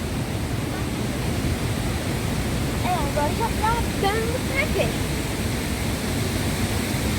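A river waterfall roars as a steady broadband rush at middle distance, with a voice speaking briefly over it.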